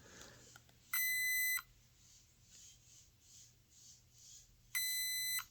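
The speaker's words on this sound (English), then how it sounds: "keep pushing this button until that red light beeps just once" An RC truck's electronic speed controller gives two loud, sharp electronic beeps about four seconds apart, with quiet background hum between them.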